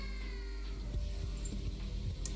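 A house cat lets out a few short, soft meows close by, spaced irregularly over a steady low indoor hum.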